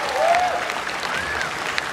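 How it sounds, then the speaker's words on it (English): An audience at a comedy show claps in steady, moderate applause. A brief higher voice or whistle-like tone rises over the clapping. "let's give her a little round of applause"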